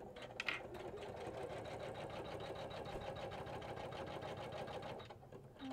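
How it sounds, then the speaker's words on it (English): A Janome 500e embroidery machine stitches an applique tack-down on fabric, its fast steady mechanical chatter running loud and continuous with a rhythmic motor hum, easing off briefly near the end. "So we're gonna put our presser foot down and start the first stitch."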